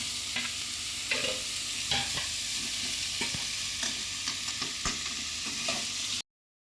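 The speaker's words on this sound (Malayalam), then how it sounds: "ഉള്ളി, മുളക്, ഇഞ്ചി അതെല്ലാം നമുക്ക് തേങ്ങാക്കൊത്ത് ഇട്ടിട്ടുണ്ട്. നമുക്ക് മിക്സാക്കാം." Onion, chili, ginger and coconut pieces fry in a pan for chicken curry while being stirred. A steady close sizzle runs throughout, broken by repeated scraping stir strokes, with no talking, and it cuts off abruptly near the end.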